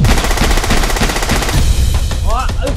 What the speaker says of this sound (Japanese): 何発か撃ってからすぐ撤退します